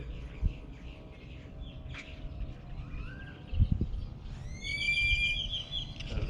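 A bird chirps outdoors during a morning stretching session, a few faint tweets and rising whistles over low background noise and soft thumps.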